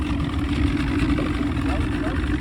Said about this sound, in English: I'm just gonna do a loop here and let the engine warm up.